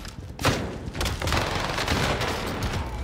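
A PPSh submachine gun fires rapid sustained bursts in the Call of Duty Vanguard video game, a dense continuous rattle of gunfire with booming impacts, loud and close throughout.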